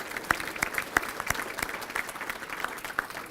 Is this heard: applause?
yes